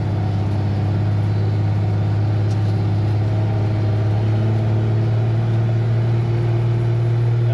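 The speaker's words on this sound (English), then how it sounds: "that sound of pieces of the clutch being slung around inside of the bell housing" Jeep truck with a broken clutch, loose pieces rattling inside the bell housing, heard as a steady low engine drone with a faint metallic clatter running underneath for the whole stretch.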